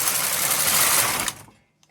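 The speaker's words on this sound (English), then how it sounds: "Now I'm going to knit 1 row." A knitting machine carriage runs across the bed knitting a single row of 2x1 or 2x2 ribbing, a loud steady mechanical rattle for over a second that cuts off abruptly and fades to quiet.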